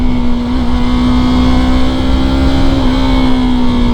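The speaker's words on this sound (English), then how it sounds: "And I know I'm not supposed to be revving that high," A Yamaha R sport motorcycle engine revs high while riding, a loud, steady, sustained whine with only slight pitch shifts, heard close up without talk.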